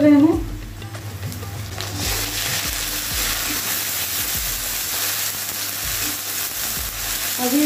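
Onion and ginger-garlic paste frying in a pan for a dhaba-style egg masala curry: a steady, close sizzle with occasional stirring scrapes over a low background hum.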